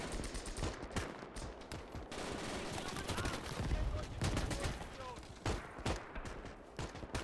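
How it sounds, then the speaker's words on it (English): Rapid semi-automatic fire from G43 and SVT-40 rifles in the Gates of Hell war game, a dense burst of shots cracking over a rumbling battle, with voices talking over parts of it. "Some nice rapid fire there from the G43. You hear the SVT-40 as well."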